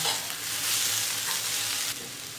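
Carrot poriyal with grated coconut and curry leaves stirred in a hot pan, giving a continuous loud sizzle and scraping hiss that eases slightly near the end, with no talking.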